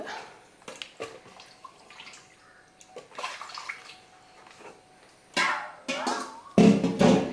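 Water splashes and swishes around inside a mixer grinder jar as it is rinsed out, coming in irregular bursts with quiet gaps and growing louder and fuller toward the end, close by with no talking.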